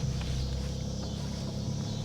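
A 1985 Honda Accord with 62,000 miles, long left sitting, driven on the road, heard as a steady low engine and road rumble from inside the car, continuous and fairly loud with no talk.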